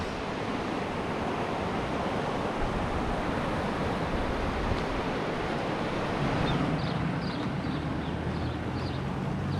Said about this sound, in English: there's a river running down there